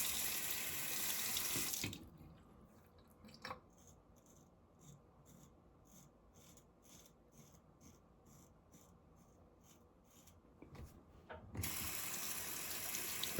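A razor being rinsed under a running tap at a sink, with a steady loud rush of water that stops briefly while faint close clicks and taps sound, then the flow resumes.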